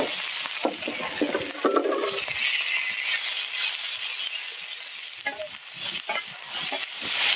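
Seasonings of kosher salt, granulated garlic and ground pepper being stirred together in a kitchen, with a continuous scraping, rustling mix and occasional light clinks, close and fairly loud, no talking.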